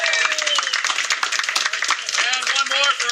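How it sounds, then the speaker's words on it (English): Crowd at a city council fundraiser event gives a round of applause, steady dense clapping from many people with voices faintly mixed in. "Round of applause for Brian for putting this great event together."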